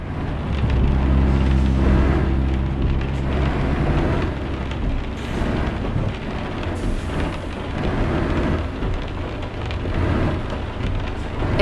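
Steady rain in Euro Truck Simulator 2 patters continuously and loudly over a low truck engine hum, with no voices, keeping an even wash of sound throughout.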